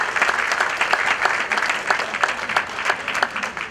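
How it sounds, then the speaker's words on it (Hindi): Audience applause greets a participant invited up to join, a steady dense clapping from a crowd that runs loud and continuous throughout with no talk over it. "इनका जोरदार ताली के साथ स्वागत दोस्तों"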